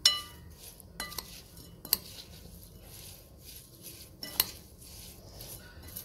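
A spoon clinks against a dish while garlic pickle is mixed with mustard oil and spices, giving a few sharp, sparse metallic taps amid quiet scraping, with no one speaking.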